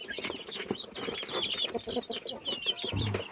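Chickens around newly hatched chicks cluck near and faint in a busy farmyard, with scattered short calls, a few higher chirps and brief rustling throughout.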